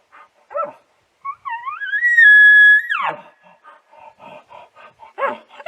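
A human voice imitates an excited bull's call, producing light huffs, short grunts and a rising, drawn-out whine, alone and close with brief pauses between sounds.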